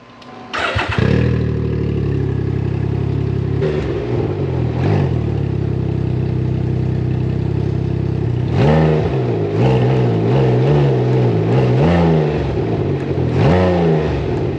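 A Can-Am Ryker Rally three-wheeler engine starting and revving while the bike is lifted on a jack, loud and close, with a sharp start followed by a steady idle and several short throttle blips limited by the system.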